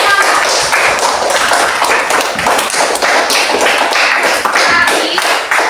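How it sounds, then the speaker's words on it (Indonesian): Schoolchildren in a classroom clap their hands together in a loud, busy burst of overlapping claps that continues steadily, close by, without talk. "tepuk tangan dulu semuanya"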